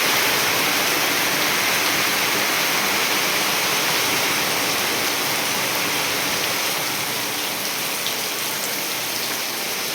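Steady, dense heavy cyclone rain pours down throughout in Keonjhar, Odisha, a continuous loud hiss of drops striking surfaces with no pauses.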